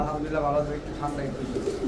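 Foreign-bred racing pigeons give low throaty coos in repeated rolling phrases close by, with a voice murmuring in the background.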